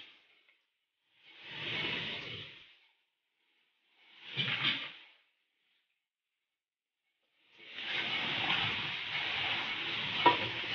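Tomato and chili are stirred in a hot frying pan for Filipino balbacua, making three separate bursts of sizzling and scraping, the last one longest and steadiest, each separated by silence.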